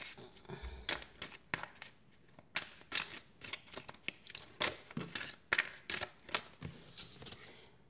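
Tarot cards are shuffled by hand in close, crisp bursts of riffling and slapping, an irregular run of quick papery flicks with short pauses between them.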